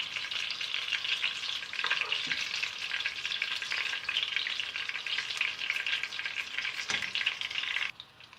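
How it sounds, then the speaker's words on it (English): Brinjal (eggplant) pieces fry in hot oil for a fried brinjal curry, with a steady, close sizzle running throughout and occasional stirring, and no talk. "Just fry it for a few minutes. Apply oil all over it."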